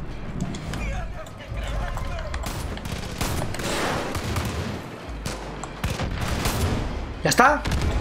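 Gunfire in a Far Cry 5 firefight crackles in scattered bursts and volleys over several seconds, mixed with other game noise and a voice talking throughout.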